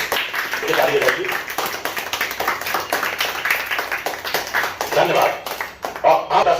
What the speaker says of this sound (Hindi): एक बार गणतंत्र दिवस के लिए जोरदार ताली बजा लें आप लोग, ताली बजाइए।